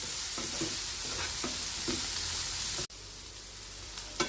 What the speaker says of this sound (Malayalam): അങ്ങനെ നമ്മുടെ ഉള്ളി ഇവിടെ വഴന്ന് വന്നിട്ടുണ്ട്